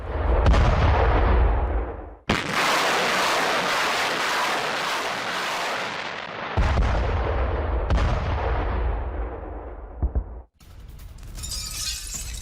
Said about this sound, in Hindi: MLRS से इस अटैक को अंजाम दिया गया है और यूक्रेन की एक सैन्य चौकी को तबाह कर दिया गया